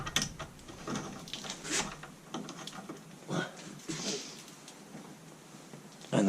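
Work on a 2001 Golf Mk4 1.8T GTi: a wrench turns the 18mm track rod end nut with repeated ratcheting clicks and metallic scrapes. The sounds come in short, uneven bursts at close range.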